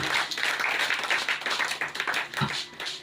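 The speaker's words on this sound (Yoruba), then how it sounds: "Ẹ jẹ́ pàtẹ́wọ́ fún Jésù." Church congregation clapping for Jesus, a dense wash of many hands applauding steadily and close for about three seconds, with faint voices mixed in.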